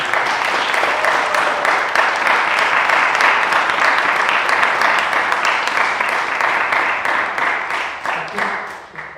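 A concert audience applauds conductors continuously, dense clapping that holds steady for several seconds before tapering off at the end.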